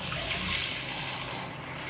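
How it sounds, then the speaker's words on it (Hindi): Water pours steadily into a pot of cooked white lobia (black-eyed bean) curry, a continuous close splashing rush with no talk over it. "पहले हम इसमें थोड़ा सा पानी शामिल और कर देते हैं"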